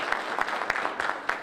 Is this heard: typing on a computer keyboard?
no